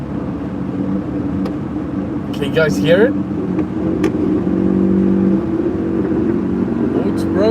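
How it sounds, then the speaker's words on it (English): A passing car's engine growls and revs with a rough exhaust note, while someone talks close by over the rumble. "this one has a bit of an angry exhaust"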